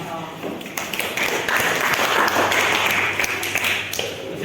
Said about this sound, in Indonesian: Tepuk tangan sama.